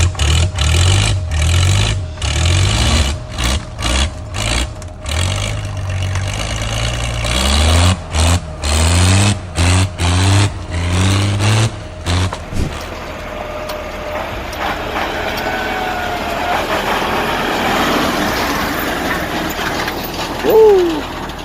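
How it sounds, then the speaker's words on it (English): A truck crosses floodwater at a crossing in Samochili. Its engine throbs and labours in loud, choppy bursts and rising revs, then settles into a lower, steady rumble with splashing wash and no talk. "I was quite worried about the truck, but finally it successfully crossed the water."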